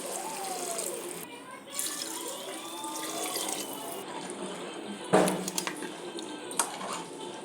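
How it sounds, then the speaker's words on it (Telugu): Water is poured into a cooking pot of goat brain and head curry, a steady splashing wash with a sharper burst partway through, close and moderately loud with faint kitchen clatter. "10 మినిట్స్ మగ్గిన తర్వాత 2 గ్లాసులు వాటర్ అయితే పోసుకోవాలి"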